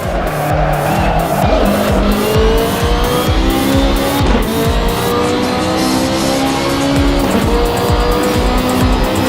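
A race car in the Assetto Corsa video game roars close and loud, its engine note repeatedly climbing and dropping through gear changes while tires squeal and skid over a continuous rumble.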